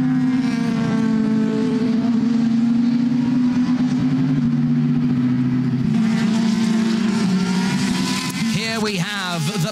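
Porsche and Ferrari GTE race cars roar around the Nürburgring circuit, engines droning loud and sustained with rising revs as cars pass. A commentator speaks over them throughout.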